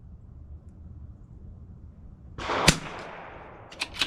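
A CZ 457 rimfire rifle is fired at an outdoor rifle match: after quiet background, a single sharp crack rings out, followed by a couple of fainter clicks or knocks.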